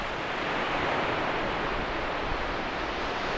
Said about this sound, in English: And the sound of waves.